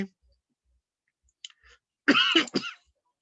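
A single throat-clearing cough rasps out after a moment of near silence, close and fairly loud, with faint clicks beforehand.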